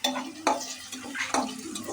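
Chopped onion stirred and fried in oil for chicken haleem, with a steady sizzle broken by distinct scraping strokes of a spoon against the pan roughly every half second, close and clear.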